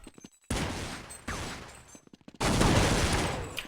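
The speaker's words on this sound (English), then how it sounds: "Forest with a nice headshot opening up on Sonics" Bursts of rapid gunfire in a Counter-Strike match on de_dust2, rattling loud and close in three separate volleys broken by short gaps, with no talk over them.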